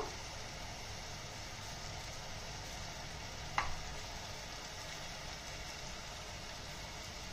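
Eggplant pieces fry in a pan with a soft, steady sizzle that holds throughout, broken once by a brief clink of a utensil.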